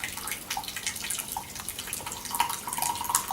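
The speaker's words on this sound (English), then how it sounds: "So I'll just pour this into a cup." Liquid poured from a self-heating can into a cup, a soft close trickle and splash that runs steadily for a few seconds with no talk over it.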